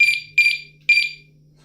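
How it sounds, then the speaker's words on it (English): Nash Siren RS-1 carp fishing bite alarm giving three sharp, loud, high electronic bleeps at uneven intervals, close up and alone, with no voices. "So give a couple of bleeps on the alarm."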